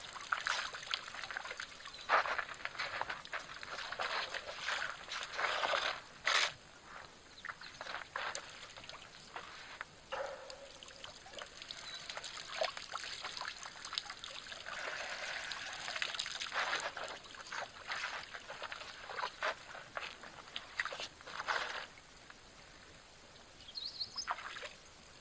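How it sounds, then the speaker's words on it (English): Water trickles and splashes continuously off elephants' trunks at a waterhole, a soft, steady dribble with occasional louder pours and splashes, heard at moderate distance in a quiet outdoor setting. "Something so nice and peaceful about the water trickling off their trunk."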